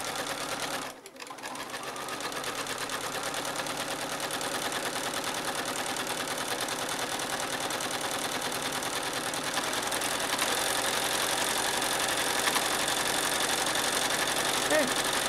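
Home sewing machine stitching free machine embroidery of grasses and leaf veins on a postcard, a steady fast mechanical whir running almost unbroken throughout, close and fairly loud, with a soft voice talking underneath.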